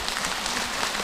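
A crowd claps during a Buddhist monk's question-and-answer talk, a dense, even hiss of many hands with no clear individual claps and no voices.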